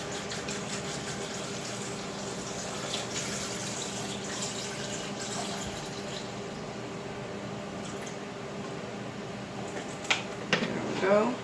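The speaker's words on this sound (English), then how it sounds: "I'm just going to fill this up with water." Tap water runs steadily into a blender container holding chickpeas, a continuous even hiss and splash close by, ending with a few brief clinks and knocks.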